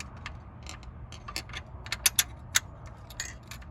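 Metallic clicks and small clanks while a spring plate and washer are fitted on a BMW M52 engine during a cam and timing chain install, irregular light taps close by.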